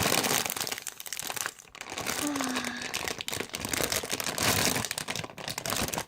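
Plastic packaging of a squishy toy crinkling as it is opened, close and quiet, with irregular rustles and crackles throughout.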